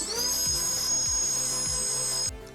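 Flywheels of a high-end Nerf blaster spin up with a rising electric whine, holding a steady high-pitched hum close by for a couple of seconds before cutting off.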